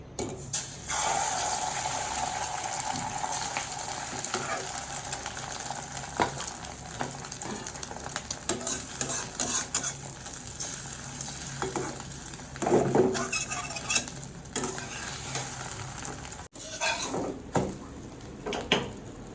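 An egg fries in oil in a pan in a home kitchen, giving a continuous close, loud sizzle and crackle with stirring scrapes and bubbling bursts throughout, and no talk.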